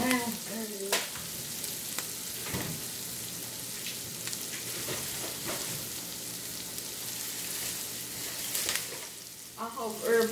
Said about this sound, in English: Don't burn your onions. I like my onions cooked a little bit down.